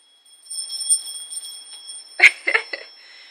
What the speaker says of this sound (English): I'm going to ring my shaman's bell to seal the deal